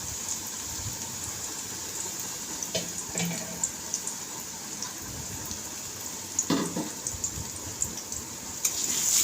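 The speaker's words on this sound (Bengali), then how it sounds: "পেঁয়াজ ছাড়ে দিলাম তেলের মধ্যে।" Sliced onions sizzle in hot oil while desi chicken curry is cooked. A steady, bright hiss continues throughout, with occasional soft clatters from the pan close by.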